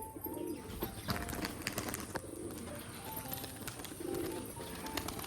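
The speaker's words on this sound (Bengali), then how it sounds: "এই যে একটা মাদি পায়রা" A female pigeon coos in soft, low bursts at a loft in Rajshahi. The coos come in about three rounds against a steady background of other birds and ambient noise.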